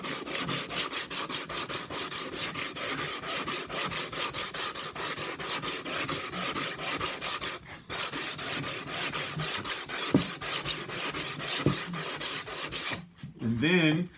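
A sanding block with 100-grit sandpaper rubs back and forth across a wooden board in fast, steady rasping strokes, close and loud, with a brief pause partway and a short break near the end.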